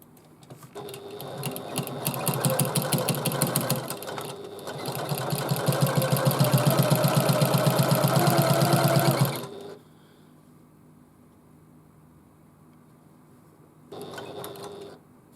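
A sewing machine runs a straight half-inch seam across a fabric bag, two loud sustained bursts of rapid stitching with a short pause between, then quiet, then a brief final run.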